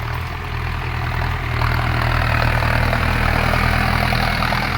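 A tractor engine idles on a farm, a steady low rumble that holds close and constant throughout, growing slightly louder partway in, with no voices over it.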